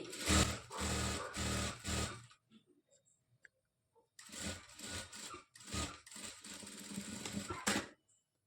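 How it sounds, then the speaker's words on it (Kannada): Domestic sewing machine stitching a cross belt on a blouse, running in two loud bursts of rapid mechanical stitching separated by a short quiet pause with faint handling noises. "ಈ ಥರ ಸ್ಟಿಚ್ ಮಾಡಿಕೊಂಡು ಇದ್ರ ಮೇಲೆ ಇನ್ನೊಂದು ಸ್ಟಿಚ್ ಹಾಕ್ಕೊಳ್ಳಿ."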